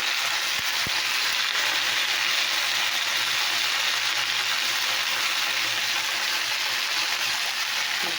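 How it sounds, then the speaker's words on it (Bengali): Leafy greens hit hot oil with sizzling garlic in a pan, producing a steady, loud crackling sizzle that holds evenly throughout with no talking. "তো রসুনটা তো গরম হয়ে গেছে, শাকটা দিয়ে দিলাম।"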